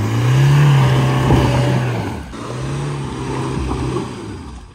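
A Mahindra Scorpio N or Toyota Fortuner SUV engine revs hard and loud while its wheels struggle for grip on soft, sinking mud off-road, the pitch surging, dipping briefly, then climbing again.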